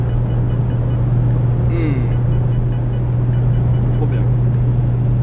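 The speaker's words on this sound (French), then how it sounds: "ça va être tout ce magnifique bruit de moteur pendant tout le voyage." A Renault Super 5 driving without a fifth gear, its engine droning loud and steady with a strong low hum and constant road noise, and a voice briefly audible over it.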